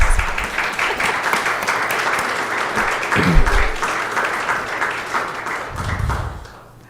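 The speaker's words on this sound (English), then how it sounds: "I think that kind of deserves a round of applause." Applause from the audience at a school district governing board meeting, sustained clapping from many hands that carries on evenly and then tapers off near the end, with some murmuring mixed in.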